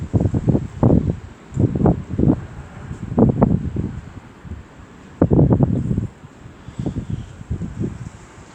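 Violent storm wind batters the microphone in repeated roaring gusts of 120 km/h in the Rhône region, loud bursts rising and falling every second or two with brief lulls between them.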